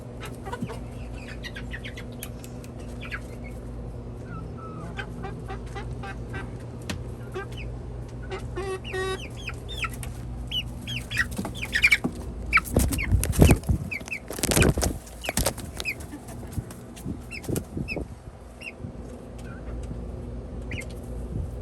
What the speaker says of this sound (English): And the little ones won't go outside the coop because they're still scared, but Darla should recognize how to get out.